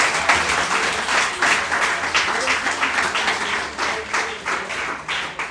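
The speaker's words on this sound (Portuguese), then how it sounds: "Uma salva de palmas ao Senhor." A church congregation claps in a loud, dense burst of applause, with rhythmic pulses of clapping swelling and easing throughout and voices mixed underneath.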